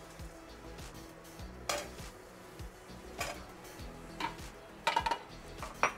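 Potatoes go into a hot pan for Sindhi kadhi, giving a steady low sizzle with a few scattered clinks and scrapes of a utensil against the pan, fairly quiet and close.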